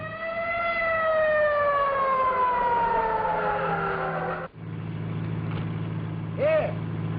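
An ambulance siren in an old radio crime drama wails in long descending tones, loud and close, then cuts off abruptly and gives way to a steady hum and a brief rising whoop.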